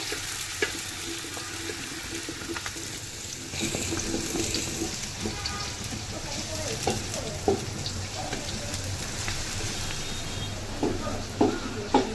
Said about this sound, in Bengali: পেঁয়াজটা হালকা বাদামি কালার করে ভাজতে হবে